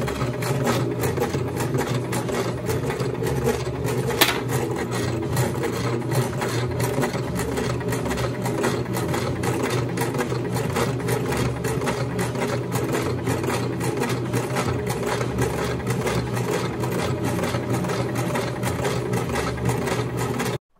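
A sewing machine stitches scrap fabric in a fast, steady mechanical chatter that runs continuously for about twenty seconds at close range, with no talking.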